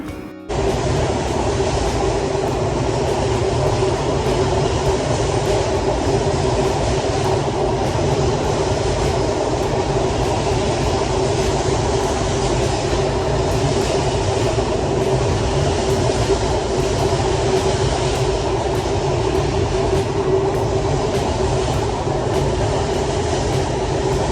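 Inside the Ruposhi Bangla Express running from Dhaka to Benapole, a loud, constant rumble and droning hum of the moving carriage with faint rhythmic rattles throughout, no voices.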